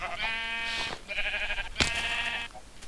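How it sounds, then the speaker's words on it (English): Bleating sheep in the Minecraft survival game: several wavering, harmonic calls in succession, loud and close, with a brief sharp hit partway through and no talking. "Ooh, sheep!"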